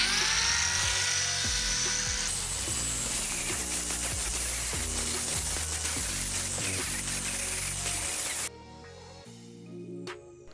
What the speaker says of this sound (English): The purpose of the grinder is to grind or smoothen the irregularities of the weld.